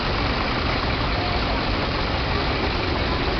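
A German-made Penn 309 LF tractor engine idles with a constant, loud, rough drone that holds steady from start to finish without revving.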